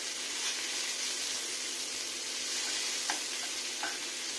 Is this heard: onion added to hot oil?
yes